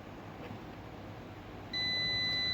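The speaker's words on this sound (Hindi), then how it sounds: "तो देख सकते हो बजर की साउंड आ गई है" A buzzer on an air conditioner's circuit board switches on partway through repair work, producing a steady, loud electronic tone that holds without a break over a low background hum.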